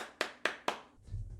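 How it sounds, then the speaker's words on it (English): Three slow, sharp hand claps ring out close by at an even pace, followed by a faint low rumble. "I applaud you, sir."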